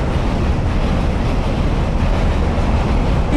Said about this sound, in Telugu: ఇక్కడ సౌండ్, ఇక్కడ రైలు పరిగెడుతుంటే మా ఇంటి వరకు సౌండ్ వినిపిస్తూ ఉంటుంది.